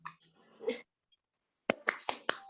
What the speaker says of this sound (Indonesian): tepuk tangan untuk teman-teman, untuk saudari Santi yang sudah menghafal Pancasila